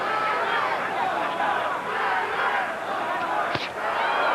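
A boxing crowd roars steadily through the De La Hoya vs Sturm fight. The dense arena din holds loud and constant, with a brief sharp crack standing out near the end.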